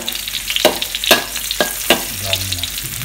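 Garlic browning in a frying pan, a steady close sizzle broken by several sharp stirring scrapes, with no voices.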